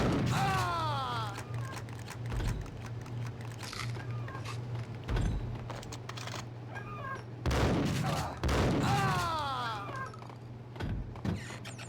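A shotgun fires in the Max Payne game, with several heavy, sharp blasts spaced a few seconds apart over a low hum, while a cat meows loudly in between.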